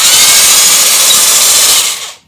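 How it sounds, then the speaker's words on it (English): A Craftsman hedge trimmer attachment driven by a 1/4-inch drill runs with a loud, close, steady whirring buzz for about two seconds, then winds down and stops. "The hedge clipper and the drill together, like it's 1950."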